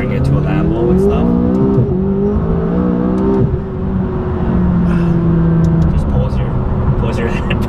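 A McLaren 570S engine revs hard while merging onto a highway, its pitch climbing through rising pulls with brief drops at each gear change, loud and close from inside the car, with voices talking over it.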